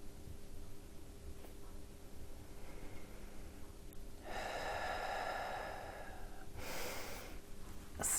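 Slow, deep breaths drawn close and quiet during a yin yoga session, two long airy inhale-exhale swells over a faint steady hiss, with no talking.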